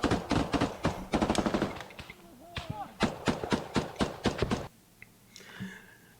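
Combat gunfire in Ukraine: loud close bursts of rapid shots in quick strings, then spaced single cracks, with a brief voice heard between them.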